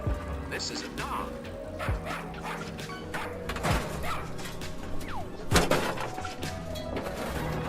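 Dog barks in the Placid Plastic Duck Simulator video game, several short yips and bow-wows spread across a busy, fairly loud mix of game sounds and other effects.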